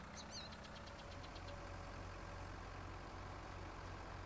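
A tractor engine in Farming Simulator 19 drones steadily at a low idle-like rumble, continuous and fairly faint, with a few faint chirping tones over it early on.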